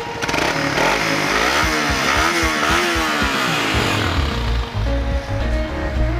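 A Suzuki Raider R150 motorcycle exhaust revs loudly up close, with repeated rising and falling throttle blips and a sharp, buzzy tone before settling into a rough idle, with no talking.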